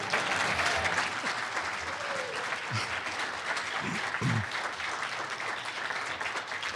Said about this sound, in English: Can we get another round of applause for the Shamar Heron?